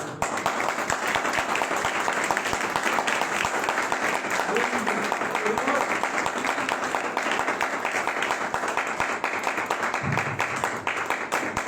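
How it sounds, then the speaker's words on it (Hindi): A church congregation claps during a worship service, dense sustained applause that holds at an even level for the whole stretch, with a few faint voices beneath it. "तालियां देंगे"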